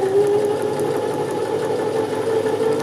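A sewing machine runs steadily while stitching a curve in fabric, giving a continuous close-up mechanical hum and whir that is alone and unbroken.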